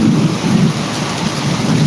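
Deep rolling thunder rumbles beneath a steady downpour of heavy rain, loud and continuous throughout.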